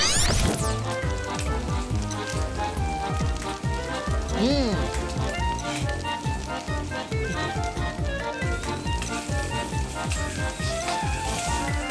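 Fish frying in a hot pan, a dense continuous sizzle with sharp crackles throughout, close and loud, with a brief rising tonal swoop partway through.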